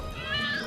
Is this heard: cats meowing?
yes